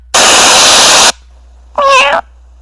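A cartoon cat gives one short, bright meow right after a loud one-second burst of static hiss, both near and loud, with no talk.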